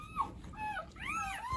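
A farm dog about to give birth to puppies whimpers and whines softly in short rising and falling cries, faint and close, with no talk.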